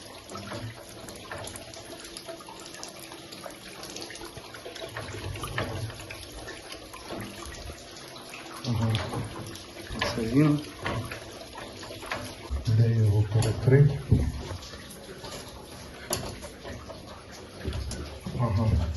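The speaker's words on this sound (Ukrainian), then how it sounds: "Тут тече вода." Water runs and trickles steadily throughout a flooded hospital building, with splashy surges midway and people talking over it in an echoey space.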